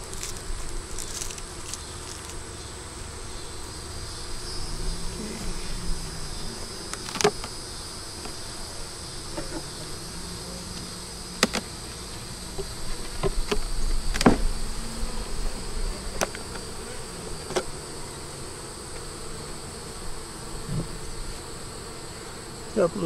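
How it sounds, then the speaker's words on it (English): Honey bees buzzing steadily inside an opened double-deep five-frame hive with a super, eggs, brood and stores, a dense continuous drone with occasional sharp clicks and knocks from frames being handled. "Couple little bees on the inside here."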